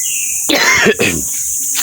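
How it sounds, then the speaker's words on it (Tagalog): A single short cough close by, with a faint high insect-like hum before and after. "Inuubo ko."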